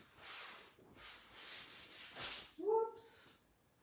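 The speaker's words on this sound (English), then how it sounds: "So I'm just like wiping off all that excess chalk." Chalk residue being wiped off a surface with a cloth, a series of soft rubbing swishes in a steady rhythm, close and quiet, followed by a brief meow-like squeak.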